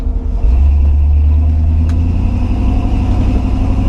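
An old, tired Ford F100 302 V8 idling after a fuel pump install, a loud steady low rumble close by with a slight lift at the start, no talk.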